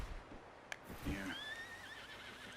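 A horse in the video game Red Dead Redemption 2 gives one short neigh that rises into a wavering whinny, over quiet background ambience.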